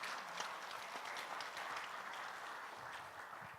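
A church congregation applauds with a steady, soft wash of many hands clapping, heard from some distance and lasting the whole moment.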